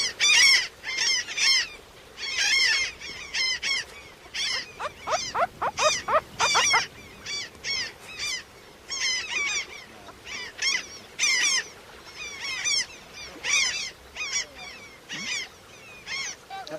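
Many terns call over a sandy river beach in the Amazon where they nest, their sharp, harsh cries repeating in dense overlapping bursts, loud and close throughout, with no voices.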